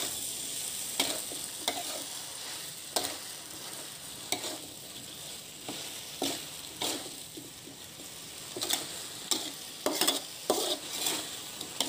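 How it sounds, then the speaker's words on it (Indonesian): Vegetables stir-fried with oyster sauce in a hot pan until wilted, a constant sizzle punctuated by repeated scraping and tapping strokes of a spatula in an uneven rhythm, close and moderately loud, without talking. "kita aduk sampai sayurnya layu"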